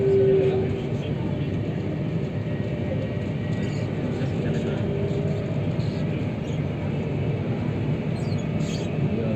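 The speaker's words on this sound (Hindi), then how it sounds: "मीना से ट्रेन सुबह 7:15 में खुली है अराफात के लिए।" A Hajj train runs from Mina to Arafat, a loud steady rumble and rattle of the moving carriage that continues unbroken for the whole stretch, with speech mixed in over the noise.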